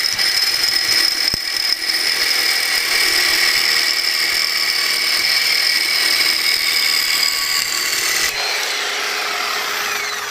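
A reciprocating saw with a worn, blown-out blade grinds through stainless steel in a loud, continuous shrill cut that runs close by, then changes pitch sharply near the end.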